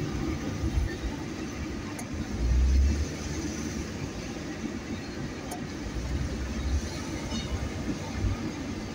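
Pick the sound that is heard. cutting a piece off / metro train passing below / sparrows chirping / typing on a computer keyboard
metro train passing below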